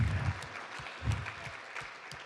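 An audience at a gathering bursts into applause, a brief spell of clapping that swells at the start and again around the middle before continuing more evenly, with no speech over it.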